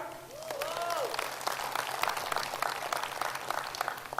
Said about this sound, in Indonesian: Tepuk tangan untuk Indonesia